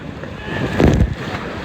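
A water ride boat splashes down at Misadventure Falls at Typhoon Lagoon, a brief rushing splash rising out of steady wind and water noise, near and loud.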